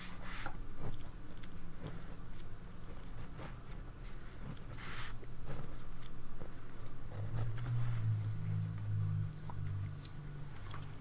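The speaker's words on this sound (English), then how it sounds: "I'm munching on jelly beans, so if you can hear that" Jelly beans being munched close to a microphone, steady soft chewing and rubbing noises with scattered faint clicks running throughout, no talk.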